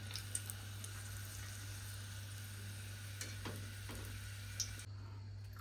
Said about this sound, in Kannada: ಇನ್ನೂ ಫ್ರೈ ಆಗುತ್ತೆ